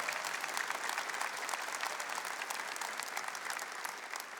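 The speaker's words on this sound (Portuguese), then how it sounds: "Dá uma salva de palmas para Jesus, para Nossa Senhora" A church congregation at Mass claps steadily in sustained applause, a dense patter of many hands with no pauses, heard at moderate distance.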